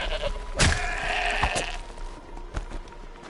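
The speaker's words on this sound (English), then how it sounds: "How am I supposed to take down this goat?" A goat bleats in Horizon Zero Dawn, giving a few short, harsh calls. Faint game ambience runs underneath, and no one speaks.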